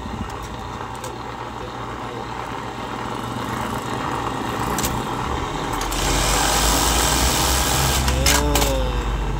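A Juki LBH-781 buttonhole sewing machine runs a test after repair of a loose rear part, a steady mechanical hum that builds in strength, with a brief quicker whirring burst near the end.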